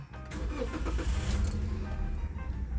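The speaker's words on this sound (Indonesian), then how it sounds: "Ini mobilnya manual. Kita kontak dulu. Kita starter." A manual-transmission car overdue for a tune-up, untouched for two years, is started, giving a steady low engine rumble throughout at moderate level.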